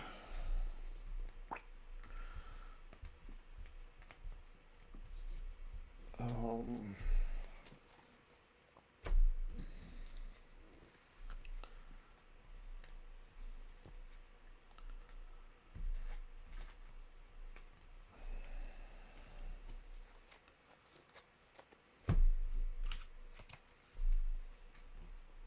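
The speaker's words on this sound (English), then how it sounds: "Give this deck a good shuffle." A deck of Marvel Champions game cards being shuffled by hand at a table, with soft riffling and tapping bursts repeating over a long stretch, fairly quiet and close.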